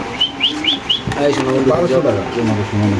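Pigeons at a market, including a club pigeon, give a quick series of rising whistle-like calls early on. Loud overlapping chatter from the crowded stalls follows.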